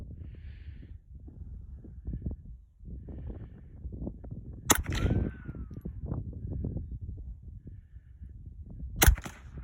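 Two sharp, loud cracks from a Chiappa M1-22 .22 rifle fired at a target outdoors, spaced several seconds apart, with quiet shuffling and faint background noise between them.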